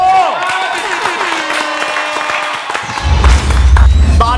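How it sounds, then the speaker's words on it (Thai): Studio audience applauding for the pink team on a Thai game show, a burst of clapping rising under a host's speech and music, growing louder in the final second. "ขอเสียงปรบมือให้กับสีชมพู"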